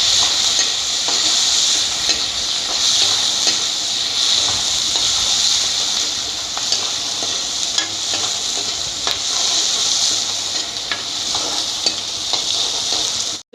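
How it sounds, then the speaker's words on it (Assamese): Plenty of sliced onions fry in a pan with a steady loud sizzle, punctuated by occasional stirring scrapes and clicks throughout, no voices. "এতিয়া পিঁয়াজবিলাকো এনেকুৱা ৰঙচুৱা কৰি ভাজি ল'ব।"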